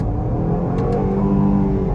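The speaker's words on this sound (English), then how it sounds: "I guess, one more acceleration off the line" A 2023 Jeep Grand Cherokee Summit with the HEMI V8 pulls away from a stop at about half throttle, a steady, loud engine drone with low rumble heard from inside the cabin.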